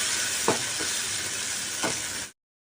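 Spice paste for a dhaba-style cashew paneer masala curry fries in hot oil with a loud, steady sizzle, while two distinct scraping stirs cut through the hiss.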